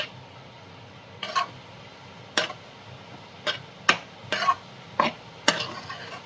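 A spoon stirs and scrapes mint rice in a wide kadai, several separate scraping strokes at irregular intervals, close and moderately loud over a quiet background.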